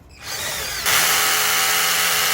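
Power drill driving a bolt while a crossbar is fitted, a loud close whine that starts after a short pause and steps up to a higher, harsher pitch partway through.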